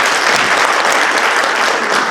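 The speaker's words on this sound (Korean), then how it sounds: "박수 한번 쳐주시기 바랍니다" Audience applause at a church symposium for an immigrant protection church in New Jersey: a steady, dense burst of clapping from many hands, close and loud, with no talk over it.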